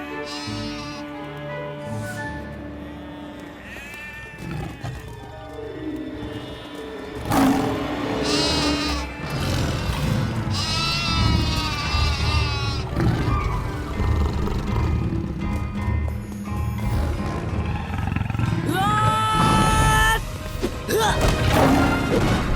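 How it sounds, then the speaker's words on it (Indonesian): Sheep bleating amid a busy cartoon soundtrack, with wavering animal calls over music and crashing effects that grow louder partway through. "Jangan takut domba kecil."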